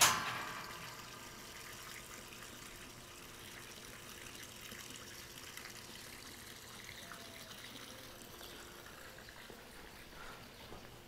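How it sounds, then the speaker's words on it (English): A small backyard water feature trickles and splashes softly, a faint, steady flow of falling water with a brief louder burst at the start. "Nice little water feature."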